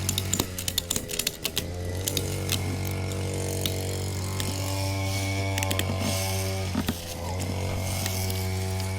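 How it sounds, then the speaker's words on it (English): Cheap hand ratchets compressing a motorcycle shock spring on a Royal Enfield Interceptor 650, a steady run of rapid mechanical clicking close by over a constant low hum, with brief pauses between strokes. "Now I can start ratcheting."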